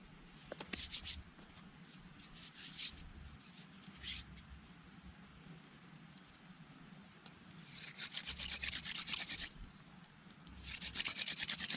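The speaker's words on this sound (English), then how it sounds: "let's see if I can get this burned in." A wooden bow drill spindle rubs back and forth in a wooden socket while being burned in, giving faint rasping strokes in uneven bursts that grow busier toward the end, heard close and without speech.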